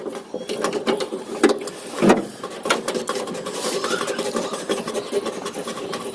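A split AC pipe flare fitting nut being tightened during installation of a Voltas split unit: close, busy mechanical clicking and rattling with a sharp knock partway through, steady and fairly loud.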